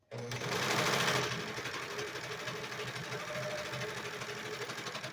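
A sewing machine with two threaded needles stitches hemp fabric for cloth fitted diapers, running in a loud, fast, continuous mechanical whir that is brightest in the first second and then steadies into an even, rapid chatter.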